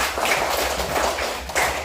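A group of students claps together in a classroom, a short burst of many hands with a quick rhythmic pattern that briefly swells again near the end, close and fairly loud.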